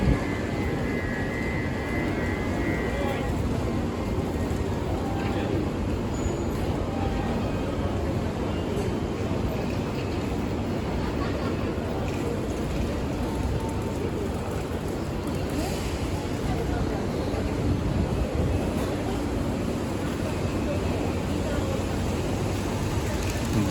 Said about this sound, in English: Bye bye bullet train.